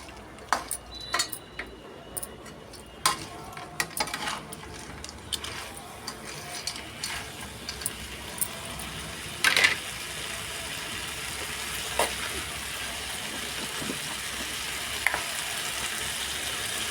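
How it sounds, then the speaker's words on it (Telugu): Drumstick pieces and urad dal vadiyalu fry in a pan, a crackling sizzle that thickens over time, punctuated by scattered pops and spoon-on-pan clinks. "వేసి బాగా వేయించుకోవాలి"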